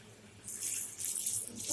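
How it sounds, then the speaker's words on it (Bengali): Water pours into a pot of braised chicken offcuts, a bright running splash starting partway in and continuing steadily, close and moderately loud with no talk. "এখন আমি দিয়ে দেবো জল।"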